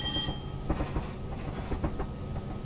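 A Class 57 diesel locomotive in Train Simulator Classic runs with a low engine drone and a tonal whine, with rhythmic wheel clicks over rail joints, steady and fairly quiet, with no talk.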